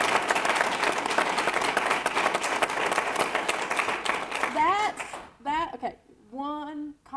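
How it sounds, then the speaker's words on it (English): Audience applause at a Buncombe County yearly meeting, loud sustained clapping from a crowd that fades out over several seconds, followed by someone speaking. "that's a applause"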